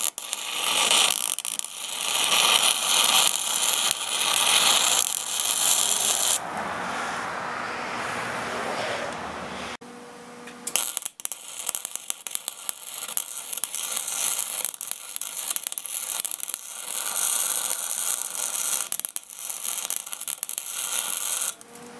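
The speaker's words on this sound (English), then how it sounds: "Welding on the hottest setting with, I think, a wire speed of around number 2." MIG welder spot welding a trans-axle differential to lock it, set to its hottest setting with a low wire speed; a loud, continuous crackling buzz runs almost throughout, with a brief pause near the middle.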